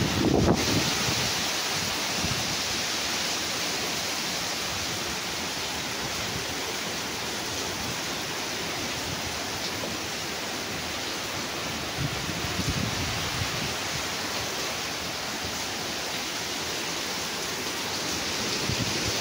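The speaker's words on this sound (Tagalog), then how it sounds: "umuulan" Steady typhoon rain pours down continuously, a dense hiss with some wind noise, close and fairly loud, with no talking.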